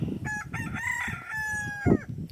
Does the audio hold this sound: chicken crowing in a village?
yes